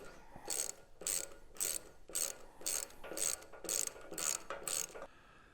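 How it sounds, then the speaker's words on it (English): A ratcheting socket wrench drives bolts through rubber during a BendPak four-post lift install, about nine rhythmic clicking bursts in quick succession, fairly faint and close. "if I get a socket, I should be able to drive these in"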